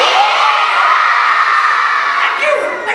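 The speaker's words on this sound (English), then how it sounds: "Let's have another round of applause for Mr. Reid" A school assembly of children cheers and applauds loudly, a dense, bright wash of claps, shouts and whoops from a large crowd filling the room, sustained and near.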